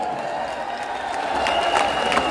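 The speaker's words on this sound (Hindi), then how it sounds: "सारे लोग अपने लिए तालियां बजा दीजिए एक बार" An audience at a rally claps together, a dense crackle of many hands that grows slightly louder over two seconds, heard from a moderate distance.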